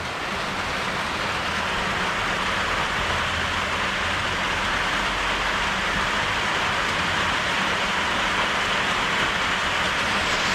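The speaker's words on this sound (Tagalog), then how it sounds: "Malakas yung ulan." Heavy rain pours down in a steady, dense hiss, loud and close, with a low rumble underneath and no talking.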